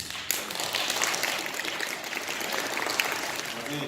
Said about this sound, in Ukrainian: Можна привітати наш гурт аплодисментами.